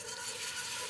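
Stock poured into a butter and flour roux in a pan, a steady close sizzle and hiss with no talking, continuous and even for about a second.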